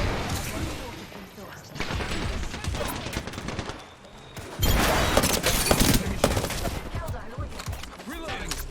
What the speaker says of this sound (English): Another team is shooting.